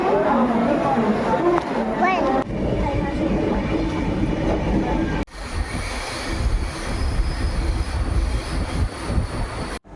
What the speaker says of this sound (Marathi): आमची ट्रेन येऊन थांबली इगतपुरी स्टेशनला